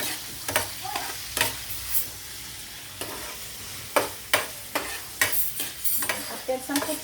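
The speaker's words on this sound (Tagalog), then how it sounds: "Sasangkup ko muna po ang pork." Pork sautéing in a pan for miki guisado, with intermittent bursts of stirring and scraping over a low sizzle, close and moderately loud, with no talking.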